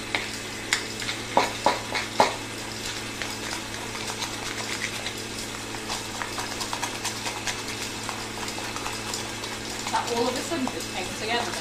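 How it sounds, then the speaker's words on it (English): Raspberry jam and a mixture being stirred together for a raspberry ripple Bakewell, giving a few sharp scraping knocks early on, then a steady soft wet scraping and crackle that runs throughout. "we're just going to stir that together and break it into the raspberry jam"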